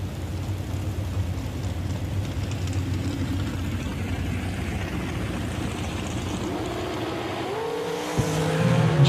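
Dragsters roaring down the strip at Woodburn, Oregon during a Summer Showdown 10k race, a sustained loud engine drone throughout with a sharper surge and rising whine near the end, no talk over it.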